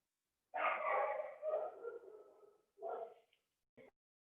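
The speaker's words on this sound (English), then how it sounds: "can you hear my dogs right now?" Dogs indoors at home give a drawn-out whining bark followed by two shorter yelps, moderately close and with no talking over them.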